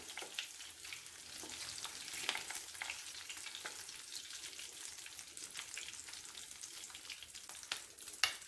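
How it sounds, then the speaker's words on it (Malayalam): Fish pieces fry in hot oil for chilli garlic fish, giving a soft, continuous bubbling sizzle with scattered crackles and pops, fairly quiet and without any voices. "ബാക്കി ഫിഷും കൂടെ വറുത്തെടുക്കാം."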